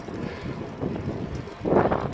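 Wind rushes past a rider on an upright, Dutch-style city bike along the Voie Verte green way in the Pyrenees, a steady buffeting that swells louder near the end.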